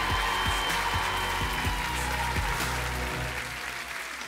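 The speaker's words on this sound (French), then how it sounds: "On peut les applaudir" A studio audience at a televised French jury competition show claps continuously, a dense, loud burst of applause that slowly fades toward the end.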